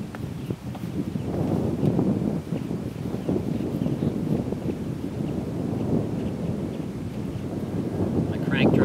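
Wind blows across an open golf course and buffets the microphone with a loud, continuous low rumble that swells and eases slightly for the whole stretch.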